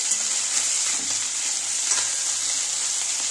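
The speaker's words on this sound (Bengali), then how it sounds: "দেখো মাছটা ভাজা হয়ে গেছে, এই দেখো একদম বেশ সুন্দর করে ভাজা হয়ে গেছে" Small fish frying in hot oil, a constant close sizzle and crackle with no pauses.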